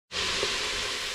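Ginger and garlic fry hard on high heat, giving a loud, steady close-up sizzle that runs the whole time after a sudden start, with a faint stir partway through.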